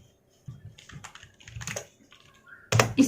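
Code being typed on a computer keyboard, short irregular bursts of close clicking keystrokes with brief pauses and a louder cluster at the end, no voices.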